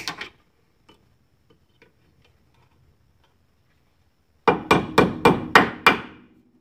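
A tool taps on a Jeep Cherokee ball joint: a few faint, sparse ticks, then six sharp, loud metallic hits in a steady rhythm, close by.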